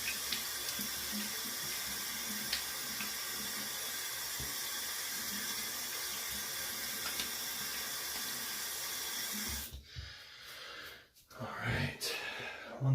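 Tap water running steadily into a sink in a shaving setup, a constant hissing rush that stops abruptly near the end, followed by a few faint splashes.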